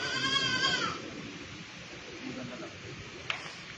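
A goat bleats once, loud and wavering, at the start, then low background noise and a faint click follow in a veterinary hospital setting.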